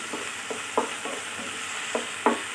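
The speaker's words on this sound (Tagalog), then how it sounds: "Lagay natin ang ating garlic at saka tomato." Garlic and tomato sautéing in a pan, a soft steady sizzle broken by several distinct stirring scrapes of a utensil at irregular intervals.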